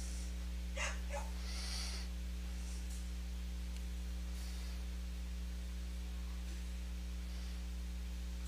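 A dog barks outdoors a few times, faint and distant, then falls quiet while a steady electrical hum runs underneath.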